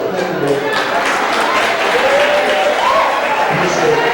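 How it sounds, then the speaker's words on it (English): Steady round of applause from an audience at a Crown Heights town hall meeting, filling the room at even loudness, with voices mixed in beneath the clapping. "Give him a round of applause."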